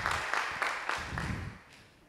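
Audience applause at a stand-up comedy show, steady clapping from a moderate crowd that fades gradually toward the end, with no talking over it.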